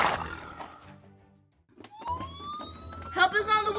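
A toy-like ambulance siren rises in a single sweeping wail, following a burst of voices and a short pause, with more voices and clatter joining toward the end.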